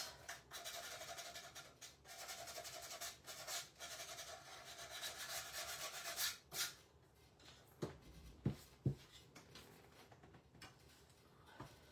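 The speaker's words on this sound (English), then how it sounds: "Just going to give that a quick sand." Hand sanding a wooden handle, a continuous close rasping rub for about six seconds, then a few scattered taps and light scrapes as the work pauses.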